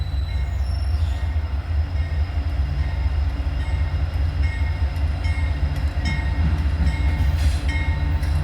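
A freight train with several locomotives rolls past close and loud, a steady heavy rumble with metallic wheel squeals and ringing tones throughout.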